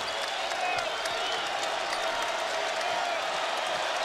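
A basketball arena crowd at an Oklahoma vs Texas game makes a steady, dense roar of cheering and clapping, loud and continuous throughout with no break.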